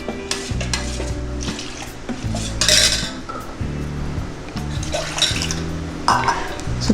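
Ragi flour is stirred into water in a metal vessel for traditional ragi koozh, a spoon scraping and clinking in repeated strokes, close and fairly loud, with no talk over it.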